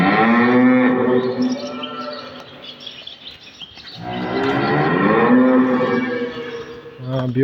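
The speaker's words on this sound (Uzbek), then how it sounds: "Bu yerda bo'g'oz sigirlar turadi." Pregnant cows on a farm moo in long, loud, drawn-out calls inside a cool concrete barn, one low call after another with a brief quieter gap between, and faint bird chirps in the background.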